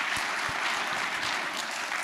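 An audience at a school's new-parent evening applauds. The dense, even clapping is steady and fairly loud, with no speech over it.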